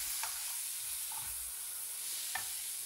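Food cooks gently over low heat in a pan for a salmon Wellington, giving a soft, steady sizzle with a few faint stirring scrapes on top.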